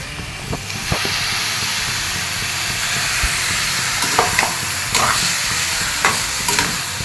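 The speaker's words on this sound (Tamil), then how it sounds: "இப்போ வந்து நான் சிக்கன் போட்டுக்கிறேன்" Yogurt-washed chicken fries in masala for Chettinad chicken curry, a continuous close sizzle with occasional scraping knocks as the pieces are stirred around the pan.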